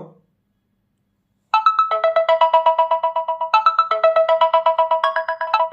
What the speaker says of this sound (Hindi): अगर आपका फोन साइलेंट पे भी होगा तो आपके फोन में रिंग बजेगी